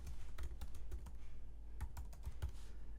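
Quick bursts of keyboard typing, irregular clusters of clicks and keystrokes, close and fairly quiet, with a short pause in the middle.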